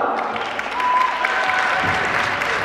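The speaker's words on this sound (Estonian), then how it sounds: "Aplaus!" An audience applauds steadily at an ice skating show in a rink, a dense, loud wash of clapping from many hands.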